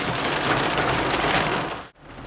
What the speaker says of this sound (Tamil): அப்படியே மழை மட்டும் பெய்யுதா, மிஸ்ட் வந்த மாதிரி இருக்கு